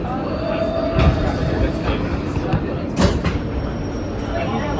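Steady interior rumble of a New York City subway R160 E train in motion, with continuous wheel and track roar and occasional clicks and rattles, heard from inside the car.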